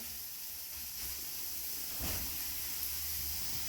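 Garlic sautéing in a pan gives a soft, steady sizzling hiss that swells briefly louder partway through.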